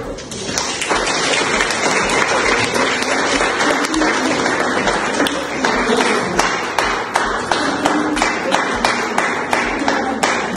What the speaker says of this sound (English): With a loud round of applause